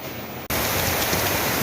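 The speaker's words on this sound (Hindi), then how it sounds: "इस वक्त बारिश और ज़बरदस्त किस्म की बारिश जो है वो जारी है" Heavy rain pours down outdoors, starting suddenly as a loud, dense, continuous roar after a quieter moment, with no voices.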